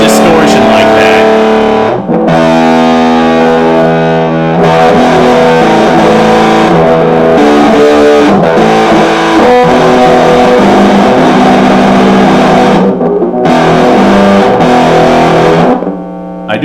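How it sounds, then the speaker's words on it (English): A heavily distorted electric guitar, a 1980s Yamaha EG112 Stratocaster-style guitar with cheap pickups, plays loud sustained chords and riffs, with brief pauses between phrases. "These cheapo pickups might not be the best for heavy distortion like that."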